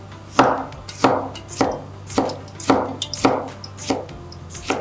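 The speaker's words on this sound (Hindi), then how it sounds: "हे टमाटा आहिनि, टमाटनि खे बारीक स्लाइस था कयूं।" Knife slicing tomatoes finely on a cutting board, seven evenly spaced crisp chops close up over a faint steady kitchen hum.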